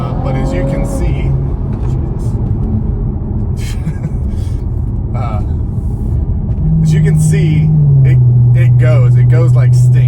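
Audi B9 S5 with a 034 Motorsport Stage 1 tune and TCU tune accelerating hard from inside the cabin, a loud steady engine drone climbing in pitch with a shift near the end, while a voice talks over it.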